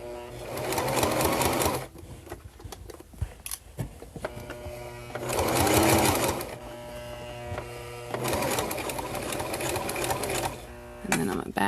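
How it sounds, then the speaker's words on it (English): Home sewing machine stitching fabric in three loud motorized bursts with pauses between, the needle clatter and whirring motor close by, with faint handling noises in the gaps. "So I've sewed that down."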